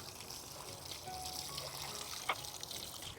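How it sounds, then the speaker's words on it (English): Water pours from a watering container onto potted container garden plants, rinsing compost off their leaves, making a soft, steady trickle and splash near the listener, with a brief louder splash partway through. "I'm watering them now just to rinse off the compost from the leaves"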